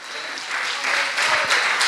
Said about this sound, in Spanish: el aplauso no es para el hombre, sino para el Señor